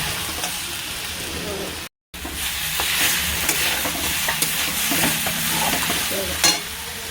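Three green chillies dropped into hot oil and stirred in a pan, a loud close sizzle with scraping strokes, a brief gap near the start, then steady frying.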